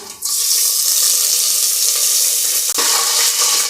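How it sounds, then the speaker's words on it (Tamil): A loud, steady sizzle of cinnamon, cloves and bay leaves hitting hot oil starts abruptly and crackles on without pause, close up with no talking. "எண்ணெய் காஞ்சதும் பட்டை, கிராம்பு, பிரிஞ்சி இலையெல்லாம் போட்டுக்கலாம்."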